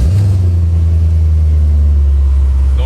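Deep, loud engine rumble from a BMW Z3 M Roadster tuned to around 400 hp, holding a steady low throb close by for about three seconds with no talking.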